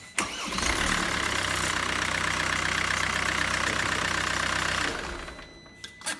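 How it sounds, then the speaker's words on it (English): A Mercedes OM651 diesel engine cranks briefly after a starter motor replacement, catches and runs at a steady, loud idle for several seconds before cutting off, with a couple of sharp clicks near the end. "let's go ahead and crank the engine."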